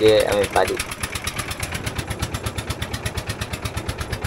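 A trawler boat's engine thumps on a small river near Shyamnagar upazila, Bangladesh, its rapid regular knocking beat close and steady throughout, with a brief voice at the start.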